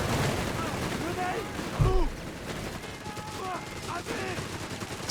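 Heavy machine gun fire rattles in bursts during a Company of Heroes 3 match, with battle noise running steadily under a commentator's talk.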